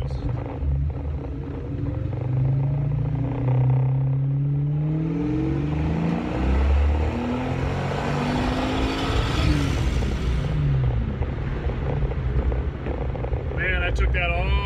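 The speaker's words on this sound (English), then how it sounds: "Took that all the way to the rev limit." A supercharged car engine revs up hard to the rev limit, its pitch climbing and falling in long sweeps with a whining blower note, loud and close, with talking over it.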